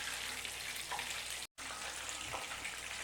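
Quail frying in a pan over medium heat gives a steady, dense sizzle with a faint watery crackle, broken by a brief dropout of silence midway.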